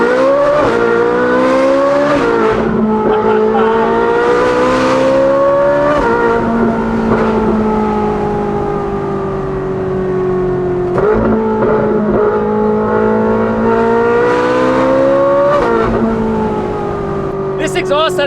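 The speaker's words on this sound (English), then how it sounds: "This exhaust setup is so special because the larger piping gives you way more sound, which is really impressive." A Ferrari 458 with a full titanium exhaust and free-flow front pipes revs hard in first gear, close and loud, its engine note repeatedly climbing and dropping through several strong pulls.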